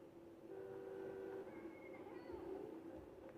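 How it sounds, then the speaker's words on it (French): Car horns in GTA V sound in a steady, sustained blare, with a held tone that shifts pitch partway through over a continuous background hum; no one speaks. "Ouais, les klaxons là comme ça là."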